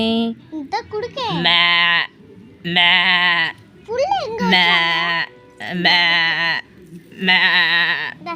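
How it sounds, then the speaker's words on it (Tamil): A hungry lamb bleats repeatedly, loud and close, in a series of wavering cries with brief pauses between them. "இந்த ஆட்டுக்குட்டி பாரு அதுக்கு பசிக்குது போல"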